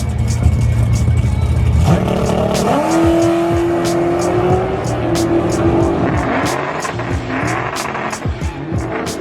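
A 2006 Dodge Charger with a modern Hemi launches at a drag strip, its roaring engine rising in pitch amid crowd noise and an announcer talking over a public address system.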